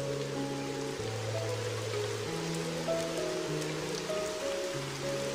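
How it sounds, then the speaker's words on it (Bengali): Heavy storm rain in a Bengali village cartoon, a steady dense hiss of falling water running through the whole stretch, with sustained background music tones playing over it. "আর বৃষ্টি থামবার তো কোনো নামই নেই"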